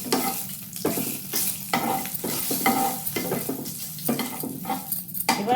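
Black cumin (kalo jeera) sizzles and crackles as it fries in a pan for a taro-leaf and hilsa-head dish, with a spoon scraping and stirring through it in steady, repeated strokes, close and continuous.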